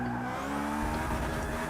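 Lexus LFA rival car in Forza 6 losing traction, a steady engine roar with tire squeal and skidding, loud and close, rising in low rumble partway through.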